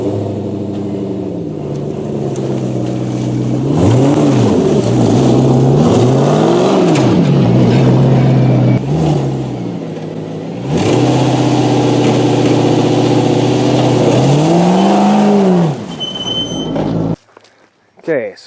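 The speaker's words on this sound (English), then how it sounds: "Just gonna start the Volvo up and put the Volvo back on the trailer here." A Volvo car engine starting up in a driveway and revving hard in repeated rising and falling sweeps, loud and close, settling between bursts before cutting off near the end.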